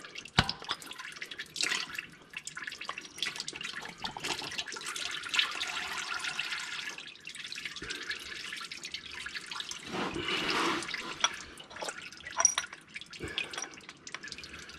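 Fluid drains out of a Honda Pioneer 1000-5 side-by-side during its first service, a steady close trickle and splash with fluctuating flow that runs throughout without speech.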